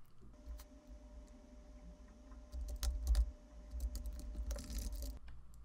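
Keys on a computer keyboard tap out a root password during a system install, the clicks quiet and close, coming in loose clusters and short runs with no voice over them.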